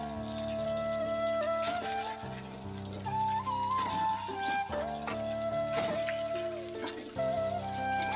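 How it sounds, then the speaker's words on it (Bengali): Homemade pitha cakes frying in oil, a steady crackling sizzle heard under prominent background music throughout. "আমি পিঠেগুলো একটু তেল দিয়ে ভেজে নিচ্ছিলাম"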